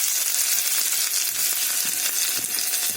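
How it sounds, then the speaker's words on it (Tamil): Ginger and pepper fry in a pan with a loud, continuous crackling sizzle, close by and steady, with a few soft knocks mixed in. "இப்போ இஞ்சி பொரிஞ்சிருச்சு"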